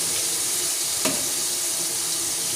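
Ginger, garlic and onion paste fries in a pan with a steady, close sizzle, broken once by a brief scrape of stirring near the middle.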